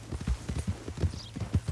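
Horse hooves clip-clop in a steady trotting rhythm in the Western video game Red Dead Redemption 2, close and moderately loud, with no talk over them.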